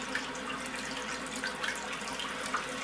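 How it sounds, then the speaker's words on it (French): Very hot tap water running into a sink or washbasin, a faint steady rushing hiss with light splashes and occasional drips, continuous throughout. "on va tout simplement remplir notre évier ou le lavabo d'eau chaude"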